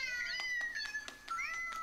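A cartoon cat's meow comes from a singing birthday greeting card, repeating as several short, bright mewing calls at close range with brief gaps, with no talking over it.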